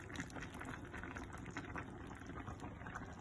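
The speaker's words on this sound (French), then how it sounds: "Et maintenant, vous laissez mijoter tout ça jusqu'à ce que ça épaississe" Cornflour-thickened sauce simmering in a pan for Liège-style meatballs, a steady close bubbling and burbling that carries on evenly throughout with no speech.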